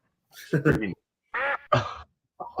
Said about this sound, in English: Just play the duck sound every time.